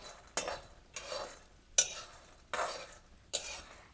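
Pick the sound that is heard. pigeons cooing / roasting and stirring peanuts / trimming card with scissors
roasting and stirring peanuts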